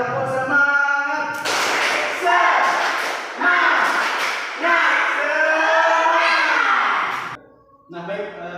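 A classroom of students repeats a clapping chant: children's voices in unison over bursts of synchronized hand claps, loud and near, ending abruptly before a brief quiet and a single voice.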